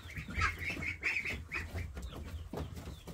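A flock of turkeys being herded into a pen gobble and cluck softly, with shuffling and scuffing of feet close by and a brief quiet voice.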